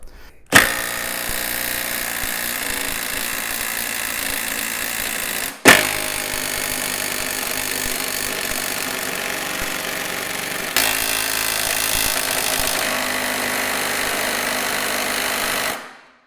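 Cordless impact wrenches from DeWalt, Ingco and Tork Craft run in turn, each a loud, continuous buzzing hammer rattle lasting several seconds. A sharp break separates the first two runs, and the tone shifts slightly for the last.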